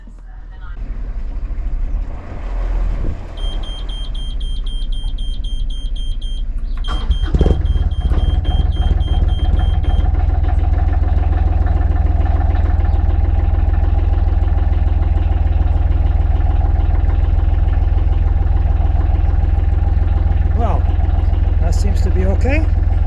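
A narrowboat engine at a marina cranks and catches partway through, then settles into a loud, steady, low idling rumble that carries on to the end.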